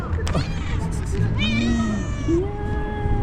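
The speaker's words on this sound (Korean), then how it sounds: "캠핑장 재밌는 게 헬로 고양이들이 진짜 많아요" Several cats meow at a campsite in Turkey, a few rising and falling calls up close over steady background noise from nearby sports grounds.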